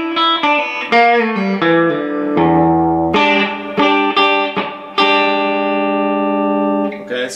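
A distorted electric guitar plays a bluesy riff in the open E blues scale, single notes and bends, ending on a long sustained ringing note.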